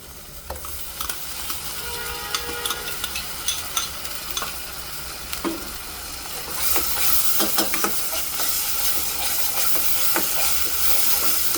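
Ginger and garlic paste fries and hisses in a pan for chicken curry, stirred steadily with scraping strokes; the sizzle swells louder partway through and keeps going.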